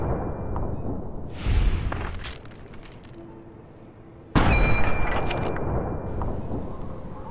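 Gunfire from the video game Fallout 3: a loud sharp blast near the start, a heavier crack that rings on about halfway through, and busy game noise and rumble filling the gaps.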